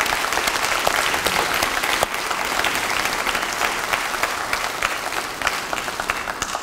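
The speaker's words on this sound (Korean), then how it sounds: "우리 주호영 원내대표에 대해서 박수를 한번" Sustained applause fills a party caucus meeting of lawmakers, steady dense clapping from many hands lasting throughout at an even level with faint crowd murmur beneath.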